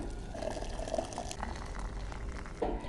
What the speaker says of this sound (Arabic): هنا بقى هنحط ميه مغليه، جايبين ميه سخنه مغليه نحطه كده